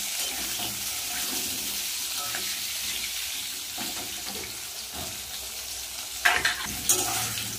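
Diced potatoes fry in a pan with a steady broadband sizzle, with occasional stirring scrapes and a couple of louder clatters near the end; no talk.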